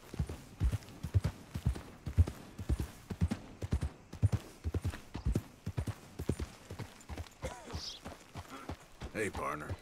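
Horse hooves clip-clop at a steady walking rhythm in Red Dead Redemption 2, close and clear, with a few light game sounds late in the stretch.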